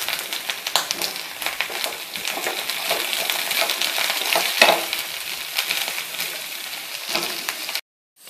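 Ivy gourd sautés with onion, curry leaves, mustard seeds and urad dal in a hot iron kadai, giving a loud, steady, crackling sizzle with frequent scraping stirs; no one speaks, and the sound cuts off abruptly near the end.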